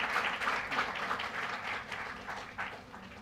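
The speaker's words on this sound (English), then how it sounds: "I request all of us to give a round of applause." An audience at a literature festival applauds in a sustained, moderately loud wash of clapping, with rhythmic surges and no clear speech.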